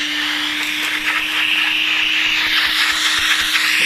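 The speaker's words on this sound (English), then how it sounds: "my Hoover, new Hoover attachment, otherwise known as a bit of old hose pipe." A Hoover vacuum fitted with a length of old hose pipe sucks dust out of a latch hole in an internal door, a loud, steady close-up hiss and rushing drone with a constant hum and no talk.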